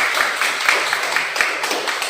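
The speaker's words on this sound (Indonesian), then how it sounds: "Tepuk tangan kita semua dulu." A classroom of students claps together for several seconds, a dense patter of hand claps with faint voices underneath.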